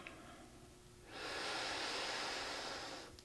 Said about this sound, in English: and nice big exhale